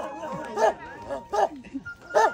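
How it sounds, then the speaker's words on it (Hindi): A dog gives three short, weak barks with small yips and whimpers between them, close and fairly quiet, in a village setting. "देखिए दोस्तों इस कुत्ते की तो आवाज़ दम भी नहीं है।"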